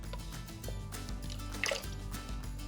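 Cubed potatoes dropping into a pot of cold water, a few soft splashes and drips over a low steady background, close and fairly quiet, with no talk.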